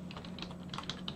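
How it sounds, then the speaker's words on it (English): Short burst of typing on a computer keyboard, a handful of quick, light keystrokes entering a single word, close and clear with no voices. "it will wait for you to type something in. So if you want to know the SHA-SUM for the word hello"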